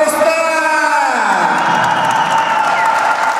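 Crowd at a no-rules fight tournament in Tver applauding and cheering for a fighter being introduced, a loud, continuous roar of clapping with whoops and shouts rising over it.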